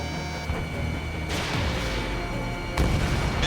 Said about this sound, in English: Missile hit.